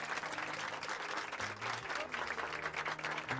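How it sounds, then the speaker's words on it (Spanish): Applause for a newly married couple at a wedding ceremony, a dense, sustained wash of many hands clapping at steady loudness throughout, with faint murmuring beneath. "un aplauso para ustedes"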